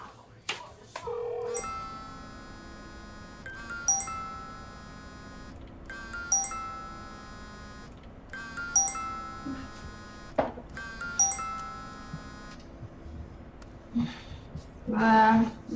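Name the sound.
telephone ringing unanswered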